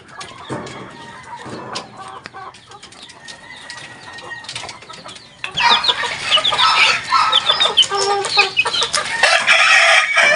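Backyard chickens clucking and crowing, a rooster calling amid busy overlapping clucks that grow louder and denser in the second half, close by with no talking.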